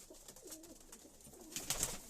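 Soft, low pigeon cooing rolls out in a gentle burble, fairly faint, with a brief brighter flutter or chirp near the end.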